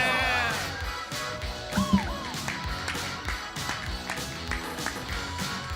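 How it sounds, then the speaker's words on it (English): Scattered audience clapping welcomes a guest at a live stage show, uneven and fairly light, with voices and chatter running through it. "Let's give her a round of applause"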